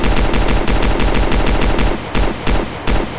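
Rapid pistol gunfire in a Roblox first-person shooter, a loud fast string of sharp shots followed by a few spaced single reports near the end.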